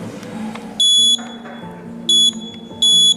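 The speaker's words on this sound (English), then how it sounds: "this will detect and the buzzer will produce beep sound" An electronic buzzer triggered by an IR sensor sounds three sharp, high-pitched beeps at uneven intervals over a low background hum.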